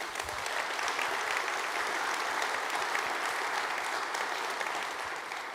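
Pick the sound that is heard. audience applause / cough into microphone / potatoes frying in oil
audience applause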